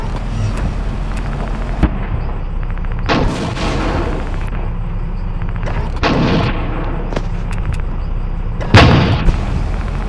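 Machine gun fire in the War Machines tank game, with a fast-reloading tier 2 weapon, comes in separate loud bursts over steady engine rumble, with a sharp final burst near the end and no talk.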